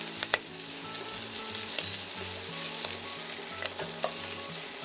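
Torn kale leaves fry in oil in a pan and are stirred constantly. A close, continuous crackling sizzle is broken by occasional brief scrapes and taps of the spoon, with no talking.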